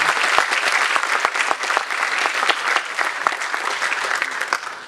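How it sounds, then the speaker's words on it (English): An audience at a corporate leadership summit applauds: dense, sustained clapping from a large crowd, loud and even throughout, with no talk over it. "I think we can have a round of applause for some great individuals"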